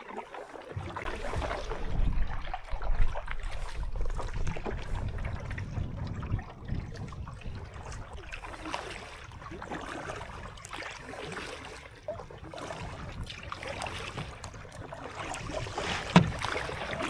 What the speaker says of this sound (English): Paddling through the narrows here,